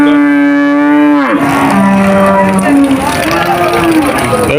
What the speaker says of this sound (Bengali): তিনোটা বকনা, তিনোটা বকনা বাছুর